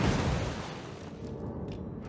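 Naval gunfire from a Montana battleship in World of Warships, a heavy boom at the start that decays into a rumbling tail, with faint crackles afterward.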